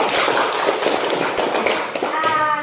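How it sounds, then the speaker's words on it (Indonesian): Schoolchildren clap together in an Indonesian primary classroom, a dense, steady patter of small hands filling the short stretch, with a voice rising faintly near the end. "saya mau beri tepuk tangan dulu buat anak-anakku karena telah menyelesaikan misi hari ini"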